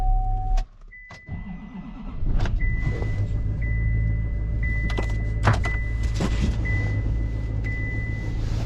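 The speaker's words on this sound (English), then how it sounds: "that pickup that I got does not sound great" A pickup truck engine idles roughly and steadily close by, a low continuous rumble with a faint whine riding over it, after a few short knocks and a brief drop in sound at the start.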